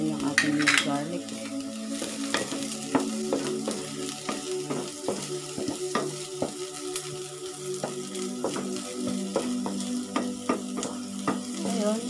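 Onion and garlic sizzle in oil in a pan for sopas, a steady crackling fry broken by repeated scrapes and clinks of a spoon stirring against the pan, close up with no talking.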